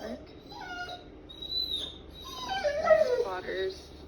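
A reactive dog at a dog park gives several high, wavering whimpers and whines that rise and fall, close by, with quiet background noise.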